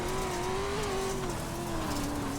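Pro 2 off-road race trucks in the iRacing game at Bark River International, a dense engine roar with a steady tone that gradually drops in pitch, close and loud throughout.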